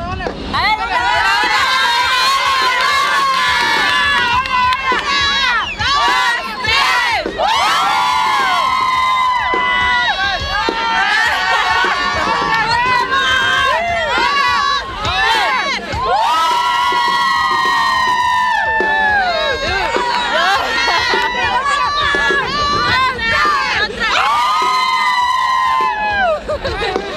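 A large crowd at an outdoor Christian concert in Tijuana cheers and shouts continuously while doing a wave, a loud, dense roar of many voices with rising and falling swells of screaming.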